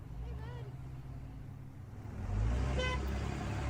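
A truck horn honks in the middle of passing road traffic, a short blare rising over the rumble of a nearby engine, with voices talking throughout.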